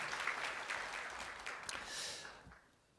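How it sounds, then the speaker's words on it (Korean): A church congregation at a Sunday worship service claps in encouragement, a dense, fairly quiet spread of many hands that swells and then fades out toward the end. "격려 박수 보내주세요"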